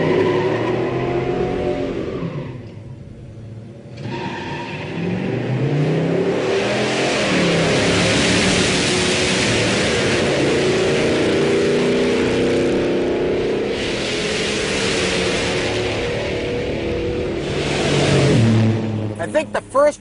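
A Hurst muscle car with a 455 big-block in an intermediate A-body accelerates hard on a run, the loud engine roar climbing steadily for many seconds, with a voice talking over it.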